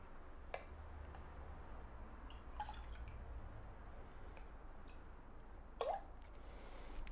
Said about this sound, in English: The next step is going to be decanting this. I could do work around the camera so you guys can see this, into the water.